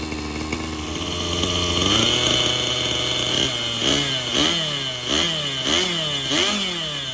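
A SAB Goblin Raw 580 nitro RC helicopter engine screams continuously, its pitch rising and dipping in a series of quick rhythmic throttle blips.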